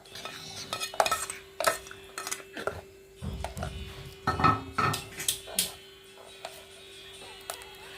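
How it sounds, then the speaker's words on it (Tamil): Moong dal payasam with grated coconut, jaggery and ghee being lightly stirred in a pot; a spoon clinks and scrapes against the metal in irregular bursts, with quieter gaps and a faint steady hum beneath. "இப்போ நம்ம வந்து லைட்டாக அப்படி கிளறி விட்டுடலாம்"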